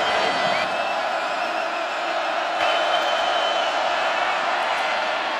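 Large partisan football crowd at the NCAA Division II championship game between Northwest Missouri State and Shepherd, a steady roar of cheering and whoops held at an even level throughout, with no clear talk over it.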